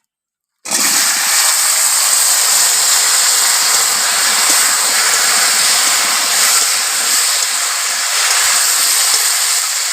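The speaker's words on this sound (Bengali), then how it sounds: "আলুটা ভালো করে ভাজতে হবে।" Potatoes frying in hot oil, a loud hiss that bursts in suddenly after a moment of silence and then holds as a steady, close sizzle to the end with no speech.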